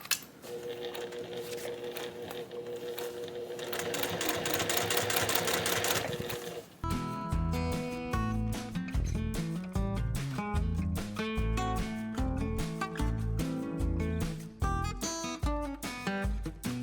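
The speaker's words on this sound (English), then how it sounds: "Let's sew down toward the bottom." A sewing machine stitches down a jelly tote insert, running as a steady, fast, close mechanical chatter for most of the stretch, with a denser whirring burst in the first seconds before settling into the rhythmic needle pattern.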